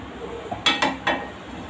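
Metal pan set down on a stove before shallow frying maize cutlets, three quick close clanks in succession over a quiet kitchen background.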